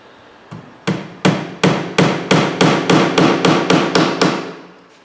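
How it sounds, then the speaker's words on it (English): A hammer driving nails into a wooden window screen frame, about a dozen sharp, loud strikes in a quick, even rhythm, each ringing briefly, close up and without speech. "Then I'll finish nailing this off."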